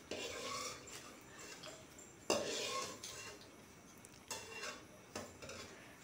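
Fried raisins scooped from a pan into a bowl while making dates halwa, with a spoon scraping and several sharp metallic clinks against the cookware, fairly quiet and close.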